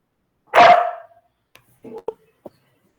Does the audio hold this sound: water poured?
no